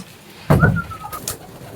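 A single soft, low cooing call from a pigeon in a racing-pigeon loft, short and fairly close, followed by quiet background.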